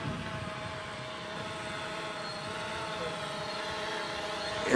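A DJI F550 hexacopter drone returning to launch at high altitude produces a steady, even motor whine that holds throughout, faint and distant with wind in the background.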